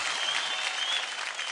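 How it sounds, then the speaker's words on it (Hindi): Studio audience at a televised dance competition elimination breaks into loud, dense, sustained applause, a steady wash of clapping throughout with no one speaking. "जोरदार तालियां हो जाए।"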